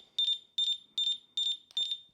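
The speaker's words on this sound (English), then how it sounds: "So this is what the beep sounds like." A dog training collar's remote sounds five short, loud, high-pitched electronic beeps in a steady rhythm, each with a brief warbling buzz, close by with no talking.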